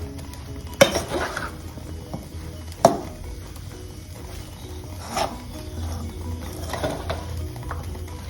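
Oil heats in a pan for tempering a cauliflower and red chilli pickle, giving a soft, steady sizzle broken by a few sharp metallic clinks of a utensil against the pan.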